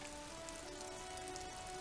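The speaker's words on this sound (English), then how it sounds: "All around you, rain falls on the great city of Revachol. Rain drips from the eaves and floods the gutters," Continuous soft patter of rain falling on the city of Revachol in the video game Disco Elysium, a faint, even hiss with a low steady tone running beneath it.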